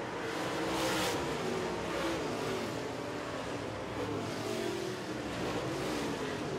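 Race cars on the final lap at TriCounty Racetrack roar steadily at a distance, engines droning with rising and falling pitch as they pass, a continuous loud rumble with no clear voices.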